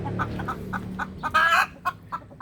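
A hen, upset after her egg was taken, clucks in repeated short bursts. One louder, squawking outburst rises partway through, and softer clucks follow. The bird is close by and no one speaks.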